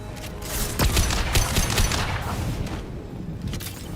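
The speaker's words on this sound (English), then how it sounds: "Watch out, flashbang!" A flashbang and gunfire erupt in the Mass Effect Legendary Edition video game, a dense burst of loud cracking shots and booms rattling for several seconds before thinning out near the end.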